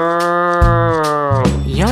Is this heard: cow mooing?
yes